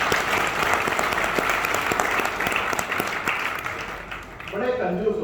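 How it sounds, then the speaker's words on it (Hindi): An audience at a talk in Indore breaks into dense, sustained applause that fills the room, tapers off near the end, and then gives way to someone speaking. "ताली नहीं बजाओगे?"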